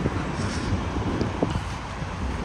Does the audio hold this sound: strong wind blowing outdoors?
yes